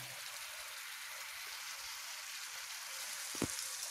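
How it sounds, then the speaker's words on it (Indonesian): Water boils in a pot for goat bone soup, a faint, steady rushing hiss of bubbling with one brief louder bubble near the end. "Air sudah mendidih."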